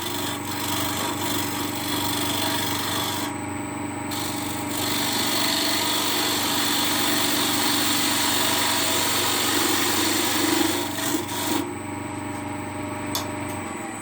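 Spalted beech spinning on a wood lathe while a skew chisel trues up the face, giving a steady continuous scraping and rubbing hum over motor noise throughout, close and fairly loud with no talking.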